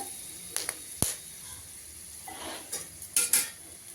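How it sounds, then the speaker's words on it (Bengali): Whole garam masala and a piece of mace tempering in hot oil in a kadai, giving a soft sizzle broken by several sharp utensil clinks and scrapes close by. "এবার আমি ফোড়ন দিয়ে দেবো গোটা গরম মশলা আর জয়িত্রী ফুল দিয়েছি একটা"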